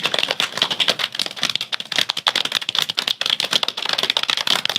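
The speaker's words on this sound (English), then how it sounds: "Play drums on your thighs like you're at Madison Square Garden." Rapid, dense patter of hands drumming on thighs, like an arena rock drummer, a continuous busy slapping rhythm up close with no talking.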